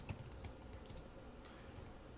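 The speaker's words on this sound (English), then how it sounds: "I can speed along my typing" Quick bursts of typing on a computer keyboard, light irregular key clicks clustered early then thinning out, close but quiet against a soft room background.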